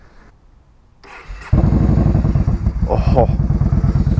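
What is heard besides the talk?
Yamaha Bolt motorcycle engine starting and revving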